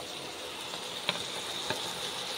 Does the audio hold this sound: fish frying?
yes